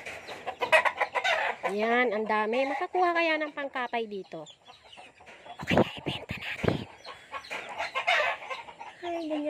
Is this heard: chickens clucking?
yes